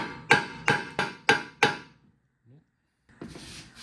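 A hammer gently taps the rear suspension vertical link of a 1994 Mazda MX5 Miata, five sharp evenly spaced metallic knocks, close and clear, then a pause and a brief shuffle of handling noise.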